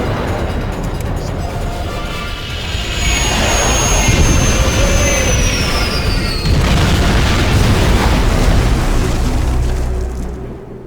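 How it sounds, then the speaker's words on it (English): Starship crash landing in Star Trek Online: a loud, continuous roaring rush of engine noise and rumbling impact, with a descending whine cutting through before the roar tapers off at the end. "Shields are gone. Impulse is failing. Get us on the ground, Commander. Crash position. Brace for impact."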